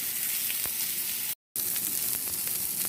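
Meat sears in a hot pan with a steady, close, broadband sizzle. The sizzle cuts out completely for a moment and then resumes unchanged.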